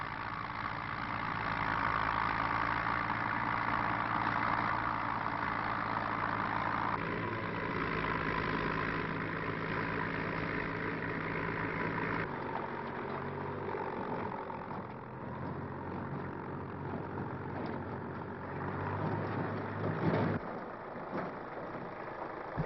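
A tractor engine idles steadily and fairly close, a continuous low rumble with a slight shift in tone partway through, alone without talk.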